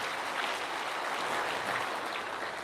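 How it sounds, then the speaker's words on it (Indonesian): An audience at a motivational business seminar in Indonesia claps together, giving a dense, steady wash of applause that holds at an even level for a few seconds, with no speech over it. "Aplaus dulu untuk teman-teman semua."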